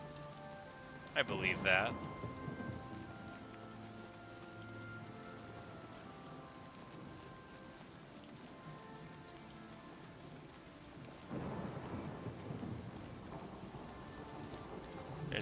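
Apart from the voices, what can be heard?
rain in the video game Oblivion Remastered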